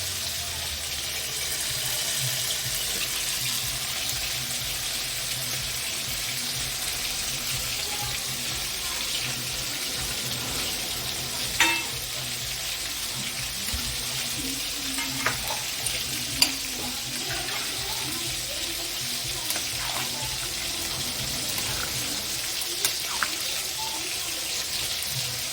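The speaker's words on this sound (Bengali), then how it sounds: "এবার আমি চালটা দিয়ে দেবো।" Gobindobhog rice poured into a pot of boiling water and stirred while making fish-head muri ghonto: a steady bubbling hiss with a few soft clicks and knocks scattered through it.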